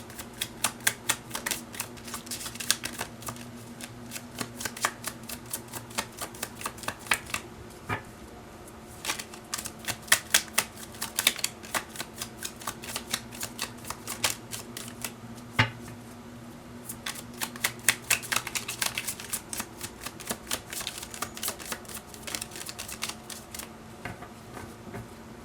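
Tarot cards being shuffled to draw a card: repeated dense bursts of papery riffling and flicking, close and fairly quiet, with short pauses between bursts and no talking.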